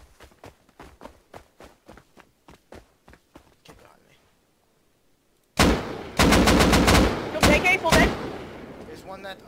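Rapid gunfire in the survival video game Rust: a run of faint footstep-like ticks and quieter shots, a brief lull, then a loud burst of close, sharp repeated gunshots.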